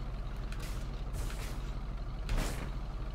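Lowrider hydraulics on a car in Grand Theft Auto V hiss and pump in a few airy bursts over a steady low engine idle, with one stronger hiss near the end.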